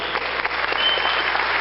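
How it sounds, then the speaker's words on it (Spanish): Church congregation applauding during a Spanish-language worship service, a steady dense wash of clapping filling the whole moment at close range. "Fuerte el aplauso"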